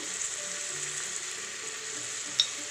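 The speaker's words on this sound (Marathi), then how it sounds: "आता याच्यात 1 चमचा हळद टाकू" Masala rice sautéing in a pan with a spoonful of turmeric, a steady, moderate sizzle and hiss with a single brief clink partway through.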